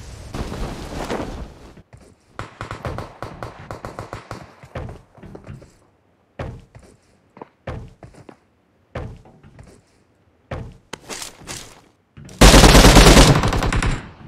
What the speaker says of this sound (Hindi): रेड में गन फाइट है